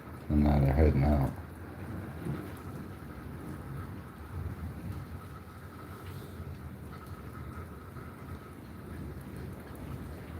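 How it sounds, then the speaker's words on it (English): Heavy rain pours steadily in Walsenburg, Colorado, with water flowing, opening with a brief loud low rumble before a constant hiss of rainfall. "It's a lot of rain."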